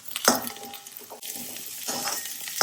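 Chopped native garlic fries in a pan with a steady close sizzle, broken by scraping stirs and the clatter of a utensil against the pan.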